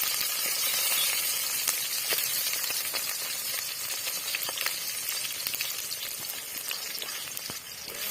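Chopped onions and tomatoes fry in hot oil with cumin and fennel for a chicken kulambu, giving a steady bright sizzle with occasional crackles and stirring clicks throughout.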